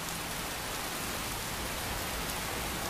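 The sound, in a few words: modded rain falling in the video game Skyrim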